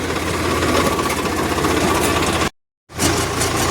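A loud, steady tractor engine rumble with a rapid chugging throb, cutting out briefly before resuming.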